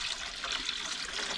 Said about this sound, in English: and I fill it up with water.